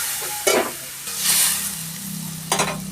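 Potatoes and taro with spices fry and get stirred in a pan, with steady sizzling broken by several loud scraping stir strokes, close and clear with no talking.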